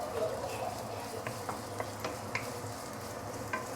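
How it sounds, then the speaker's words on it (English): Ginger sautes in oil over medium heat with a soft steady sizzle, punctuated by a few faint stirring clicks, heard close and alone. "you keep on sauteing the ginger until it becomes brown"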